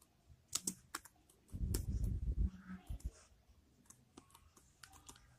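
Someone types on a computer keyboard while writing a Python program in Notepad, producing a quick run of irregular close-up key clicks with a dense burst of heavier keystrokes in the middle.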